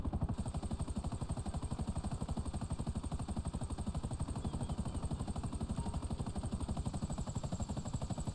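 Helicopter engine from GTA Online, a steady loud rotor chop with rapid regular blade thumps and a continuous turbine whine, running without pause throughout.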